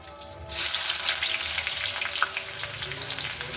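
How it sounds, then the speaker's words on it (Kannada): Mustard seeds and herbs hitting hot oil in a pan for sabudana upma, bursting into a loud, steady close sizzle with crackling pops throughout. "ಎಣ್ಣೆ ಚೆನ್ನಾಗಿ ಕಾದಿದೆ ಫ್ರೈ ಆಗಿಬಿಡುತ್ತೆ ಬೇಗ"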